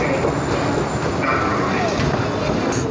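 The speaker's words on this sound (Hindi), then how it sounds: "अभी हम लोग मेट्रो से जा रहे हैं, लोकल से नहीं गए।" A metro train rolls along the track, a loud, steady rumble with continuous rattling and a faint clatter from the carriage throughout.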